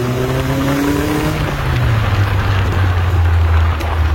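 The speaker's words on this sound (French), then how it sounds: "Je vous emmène donc dans une Caterham Super 7 équipée d'un 2 litres" A Caterham Super 7 with a 2-litre Zetec engine revs hard and close, its pitch climbing and then falling back before rising again, loud and steady throughout.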